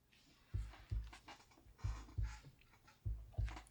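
A deep, muffled heartbeat opens a progressive rock song, paired thumps repeating at a steady rhythm, low and fairly quiet.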